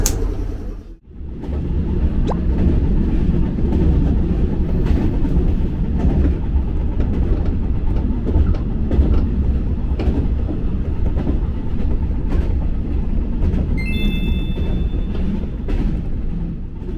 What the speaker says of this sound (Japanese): 2番乗り場に17時35分発、普通岡山行きが4両で参ります